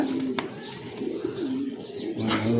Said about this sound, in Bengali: পাকিস্তানি একটা কবুতর দেখেন ভাই